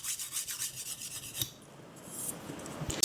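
A kitchen knife is drawn across a whetstone while its second side is sharpened, giving a steady, close, rough rasping scrape. The strokes repeat rhythmically, then a softer, smoother pass follows, with no talking.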